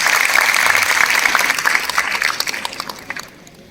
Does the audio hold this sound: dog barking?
no